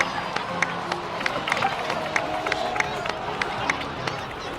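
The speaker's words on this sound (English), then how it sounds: "please give another round of applause for them" A video game crowd keeps up continuous applause and cheering, a dense wash of clapping with scattered sharp claps standing out, while a voice speaks over it.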